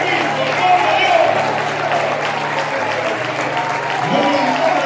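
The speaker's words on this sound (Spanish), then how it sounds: "un fuerte aplauso a nuestro Rey, el Señor Jesucristo" A church congregation applauds in steady, dense clapping that holds loud for the whole stretch, with a sustained tone and some voices mixed in.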